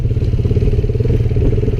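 A Lifan motorcycle rides along a soft forest road, its engine a loud, steady, close-up rumble with a throbbing pulse throughout.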